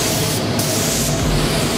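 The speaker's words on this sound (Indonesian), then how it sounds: "ini tinggal semprot-semprot aja gitu kan" Spray painting parts of a Honda NSR motorcycle during a custom build: a steady, loud hiss of the spray gun fills the short stretch without pause, close by and with no voices.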